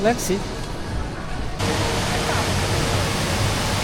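Rushing, hissing water from the indoor waterfall at Changi Airport in Singapore, a steady broadband roar that jumps louder partway through and holds, with voices speaking over it.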